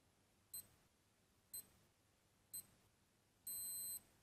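A Casio G-Shock GA-400 watch (module 5398) stopwatch countdown: three short, evenly spaced beeps one second apart, then a longer final beep, close and clear against near silence.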